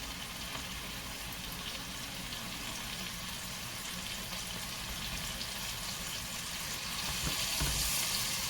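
Scallops sizzling in a hot pan after being flipped, a steady, even hiss of frying that swells slightly louder near the end, with no talking.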